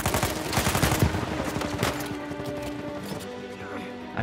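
Gunfire from the video game Uncharted 4: dense bursts of rapid shots and impacts, loud and busy in the first half, thinning into scattered shots over a low game hum.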